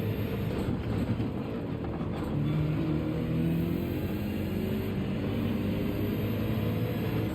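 Car engine droning and revving steadily during a race in Gran Turismo 7, a loud continuous mechanical hum with shifting pitch and no talking.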